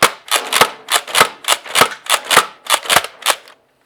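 An X-Shot Insanity Berzerko toy dart blaster slam-fired in a rapid burst of about a dozen sharp, loud clacks at an even quick rhythm, close up and alone, ending in silence.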